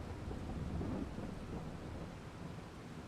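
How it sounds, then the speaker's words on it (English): Steady rain in the Farming Simulator 22 video game, a dense continuous wash with low rumbling body, fairly loud and unbroken with no voices. "Man, I thought the rain was supposed to let up by now."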